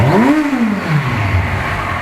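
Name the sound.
Kawasaki motorcycle engine revving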